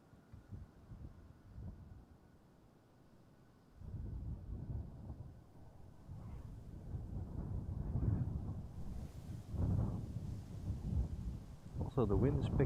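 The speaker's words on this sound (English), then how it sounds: "Also the wind is picking up." Gusty wind roars outdoors beside the runways at Amsterdam Schiphol Airport, a low rumbling buffeting that surges and swells, buffeting the microphone with louder gusts over the last half.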